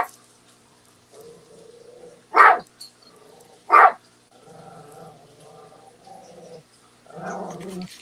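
Two loud, sharp barks from a dog ring out about a second and a half apart, surrounded by quieter low rumbling and whining sounds.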